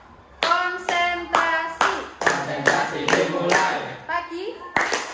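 Children clap in unison during a classroom clapping game, about ten sharp claps in uneven groups with brief pauses. Young voices chant and speak between and over the claps.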